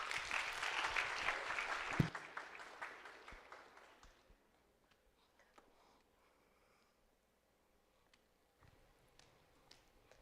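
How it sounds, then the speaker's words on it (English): An audience applauds a student team taking the stage at a second-year veterinary student clinic year-end presentation, loud dense clapping for about two seconds, then tapering into scattered faint claps and quiet room noise. "Let's give them another welcoming round of applause"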